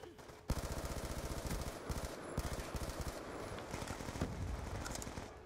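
Rapid gunfire in the video game Black Ops 2, dense automatic bursts starting abruptly and continuing loud and steady with repeated sharp shots throughout.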